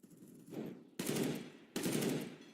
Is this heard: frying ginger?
no